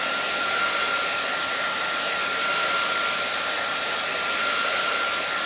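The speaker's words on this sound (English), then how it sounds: "I got it on a hot dryer too" A hair dryer on its hot setting blowing onto a surface to dry it, a steady loud whooshing hum with a faint whine, close and unbroken for several seconds.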